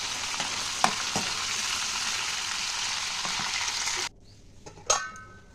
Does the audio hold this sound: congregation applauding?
no